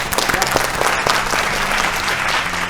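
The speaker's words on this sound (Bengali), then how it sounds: "জোরে হাততালি" A game show studio audience breaks into loud, dense applause, sustained clapping from a crowd heard close and full for the whole moment.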